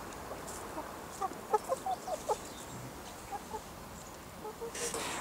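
Backyard hens clucking in a short series of soft, close calls, with a louder rustle near the end.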